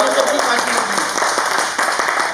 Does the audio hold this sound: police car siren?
no